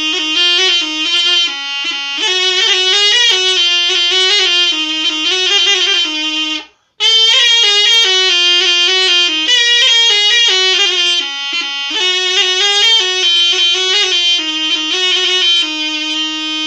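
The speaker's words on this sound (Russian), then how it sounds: "Ну вот как звучит моя эта желейка с вот таким раструбом." A zhaleika, a Russian reed hornpipe fitted with a wooden bell, plays a bright, buzzy, reedy melody up close and loud, running almost continuously with one brief breath pause partway through.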